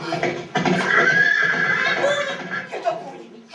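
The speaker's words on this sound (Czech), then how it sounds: "Je to kůň. Je kůň." A horse gives a loud, drawn-out neigh lasting a few seconds in a theatre stage scene, close and dominant, with some background voices and clatter under it.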